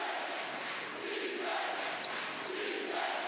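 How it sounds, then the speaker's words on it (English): A packed crowd at Reynolds Arena roars for the NC State Wolfpack during an NIT basketball game against Hofstra, a sustained swelling cheer with rising shouts, heard from within the stands. "Crowd comes to life."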